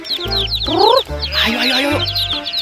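Rainbow-dyed chickens cluck and squawk in quick, close bursts while a man calls out over them.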